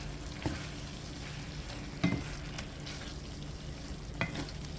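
Butter beans stirred into simmering Jamaican oxtail gravy in a pot, a soft, fairly quiet bubbling bed broken by three distinct spoon knocks and scrapes, no speech.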